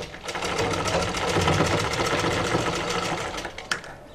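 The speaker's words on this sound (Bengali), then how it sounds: "ডাবল করে সেলাই করার সময় এই পট্টির কাপড়টা এটার উপরে এইভাবে করে রাখব" A sewing machine runs steadily while double-stitching a seam on a size 40 blouse, a fast, even mechanical whir and rapid needle clatter, loud and close throughout with no voices.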